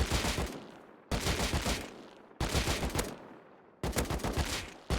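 AK assault rifle fire in the video game Rust: four loud, sustained bursts of rapid automatic shots, each about a second long and separated by short pauses, with no talking.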